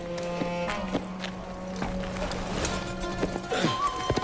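Horse hooves clip-clop in a short irregular series in an animated cartoon set in Saladin's era, moderately close and mixed with a soft neigh and background score.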